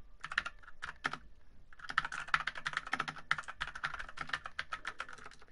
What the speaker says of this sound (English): The sound of the backspace.